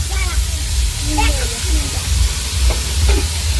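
Banana flower frying in a kadai while being stirred, a continuous hiss and crackle with scraping stir sounds. A voice speaks over the cooking.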